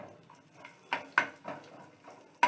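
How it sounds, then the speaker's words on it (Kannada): Dry fruits are roasted in a pan with coconut oil, giving soft, irregular stirring scrapes and light metallic knocks, close by and fairly quiet. "ಈಗ ನಿಮ್ಮ ಮುಂದೆ ಡ್ರೈ ಫ್ರೂಟ್ಸನ್ನು ನಾನು ಹುರ್ಕೊಳ್ತಾ ಇದ್ದೀನಿ."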